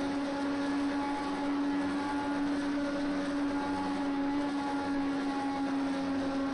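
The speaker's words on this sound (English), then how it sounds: "let's just go on board and just listen into this engine sound here if we can" Onboard engine of an Indy 500 race car in a PS4 racing game, a steady sustained high-pitched whine holding a constant tone throughout, loud and close with no speech.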